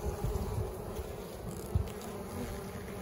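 A steady, low drone of many honeybees buzzing close by at a hive in winter, a dense continuous hum with a brief louder swell near the middle.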